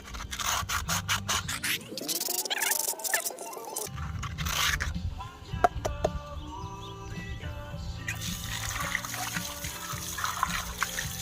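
Sandpaper rubs over a hand-carved wooden kuksa cup in steady, close scratchy strokes. A different swooshing sound breaks in partway through before the sanding goes on, with no talking.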